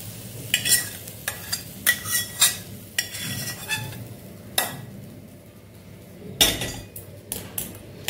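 Softened fried onion and tomato for a butter paneer kaju masala are scraped from a pan into a dish, a spoon clinking and scraping metal in short irregular strokes over faint sizzling, close with no talk.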